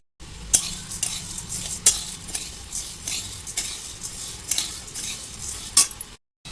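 Half a kilo of chana dal is stirred and dry-roasted over low heat in a kadhai, with a steady gritty rustle of lentils broken by repeated sharp scrapes and clinks of a metal spoon against the pan.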